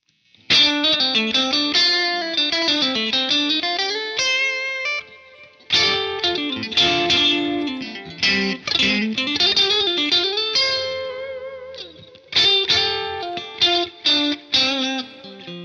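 Bogner Uber-Ultra guitar amplifier with its bright switch engaged, played as a close, loud run of chords and riffs in several phrases separated by short pauses.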